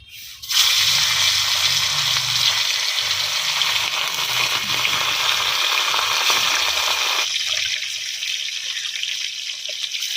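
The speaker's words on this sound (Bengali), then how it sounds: "মাছটা আমি আগে ভেজে নিই, ঝোলটা মা রান্না করবে" Rohu fish fries in hot oil, a loud, dense sizzling hiss that starts abruptly and holds steady for about ten seconds, then eases slightly.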